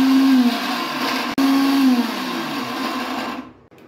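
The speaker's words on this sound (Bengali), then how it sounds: "এইগুলো সব মিক্সিতে একটু করে নিই, গ্রাইন্ড করে নিই, একদম মিহি করবো না" A mixer grinder coarsely grinds whole spices for mango kasundi. Its loud, close motor whine is broken by a brief stop near the start, runs on, then shuts off at the end. No one talks.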